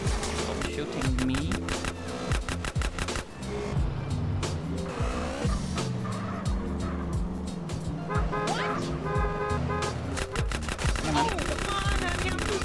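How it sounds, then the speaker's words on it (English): Video game gunfire in GTA: San Andreas comes as rapid bursts of shots mixed with car engines and tire noise during a chase. The sounds are dense and continuous, and a voice talks over them. "Stop shooting me."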